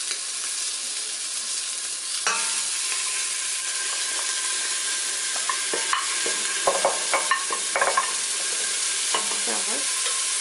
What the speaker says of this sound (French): ajoutez la carotte, l'oignon, le bouquet de persil, les pieds de champignons et la moitié des lardons